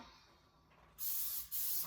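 Two short bursts of cooking spray onto a 9x9 inch baking pan hiss loudly up close, the second following right after the first, with quiet room tone before them.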